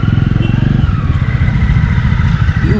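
Motorcycle riding on a slippery wet road near Munnar on the way to Kanthalloor, its engine a loud steady close drone with a rumbling pulse throughout.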